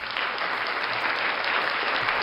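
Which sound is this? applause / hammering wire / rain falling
applause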